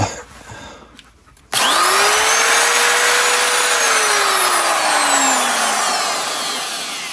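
A corded drywall cut-out tool switches on after a short quiet rustle, giving a loud high-pitched whine that spins up fast, holds close and steady, then slowly winds down in pitch.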